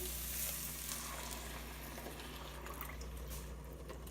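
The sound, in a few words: coconut milk added to sizzling curry pan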